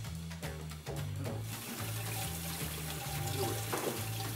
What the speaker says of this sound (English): I'm going to wash these hands quickly.